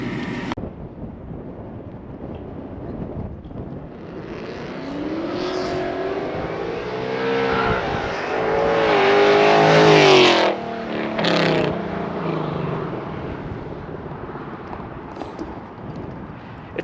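A car with E85 tuning, aftermarket headers and exhaust revs and passes by, its engine note swelling to a loud peak then fading, with wind noise.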